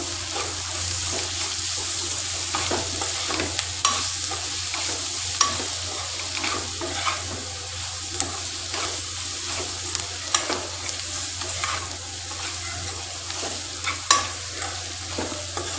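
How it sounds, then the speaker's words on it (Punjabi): Spice masala with pink rock salt roasts in a pan, a steady close sizzle broken by frequent scraping stir strokes for about fifteen seconds, with no speech. "ਹੁਣ ਇਹਨੂੰ ਮਸਾਲੇ ਨੂੰ ਚੰਗੀ ਤਰ੍ਹਾਂ 1-2 ਮਿੰਟ ਭੁੰਨ ਲਾਂਗੇ"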